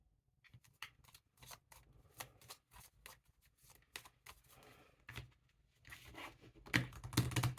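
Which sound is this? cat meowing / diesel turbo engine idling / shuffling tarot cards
shuffling tarot cards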